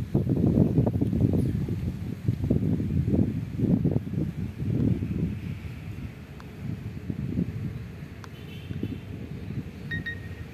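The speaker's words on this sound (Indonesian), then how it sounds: "ini anginnya juga cukup kencang juga ya di lapangan renon ini ya" Strong gusting wind across an open field at Lapangan Renon, roaring and buffeting into the microphone as continuous low rumble, with a faint electronic beep near the end and no talk.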